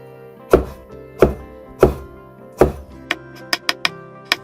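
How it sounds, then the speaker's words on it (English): Green chilies are chopped into small pieces on a cutting board: four slower knife thunks, then a quicker run of lighter taps, crisp and close. "Chop the chilies into small pieces."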